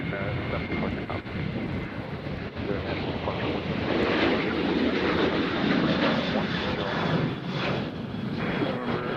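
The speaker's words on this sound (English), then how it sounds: "Beautiful takeoff and rotation from those fine folks." A passenger airliner takes off from Nashville International Airport with a strong, broad jet roar that stays loud and steady throughout, mixed with wind buffeting on the microphone.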